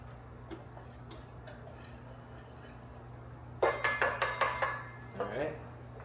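A small whisk beats a brown sugar mixture in a bowl, starting with scattered light taps and then a quick run of rhythmic clinking strokes against the bowl, fairly faint.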